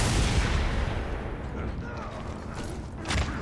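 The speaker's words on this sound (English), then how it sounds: "he's battering with the gun" Enemy gunfire in the Mad Max video game: dense, rumbling bursts of shots and mechanical clatter, loud and continuous across the clip with a sharper burst near the end.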